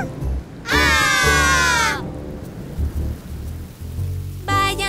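Cartoon rain and thunder in a children's animated sing-along: a sustained crackling rumble with a bright rolling thunder burst lasting about a second, backed by music and a short sung bit near the end.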